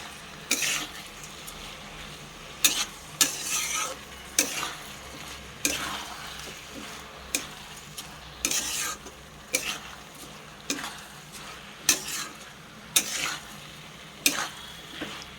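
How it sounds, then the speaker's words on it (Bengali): Gobindobhog rice is mixed into fried vegetables for a vegetable pulao, a spoon scraping through the grains in regular strokes about once a second over a low sizzle, close up. "এবার ভালোভাবে একটু মিশিয়ে নেব চালটা"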